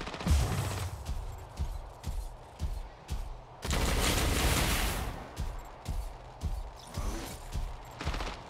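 Incoming gunfire arrives as a steady run of sharp, evenly spaced shots and impacts, with one longer, louder burst of dense fire partway through, fairly close and unaccompanied by talk.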